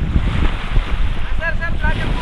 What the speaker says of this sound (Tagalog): Ito yung agos ng dagat.